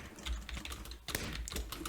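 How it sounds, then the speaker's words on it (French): Computer keyboard typing during a Minecraft session with a rainbow no-lag texture pack, quick clicky keystrokes in an uneven rhythm, close and fairly quiet. "je kiffe entendre mes bruits de clavier et tout"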